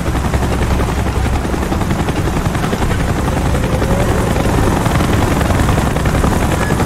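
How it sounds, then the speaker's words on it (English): Helicopter in Call of Duty: Black Ops drawing near, a loud, steady rotor thrum and engine roar filling the whole stretch with no pause. "Chopper's inbound."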